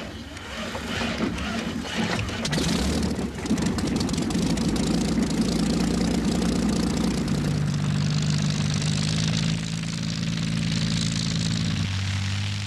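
A Hawker Hind biplane, a 1930s RAF aircraft, with its propeller engine droning loudly and steadily throughout, a continuous roar that shifts in pitch as it passes.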